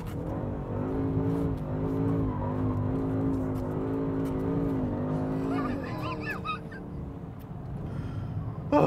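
A Mercedes-Benz E63 AMG S, BMW M6 Gran Coupe or Jaguar XFR-S sports saloon driven hard, its engine roaring steadily and rising in pitch, then tyres squealing sharply near the end.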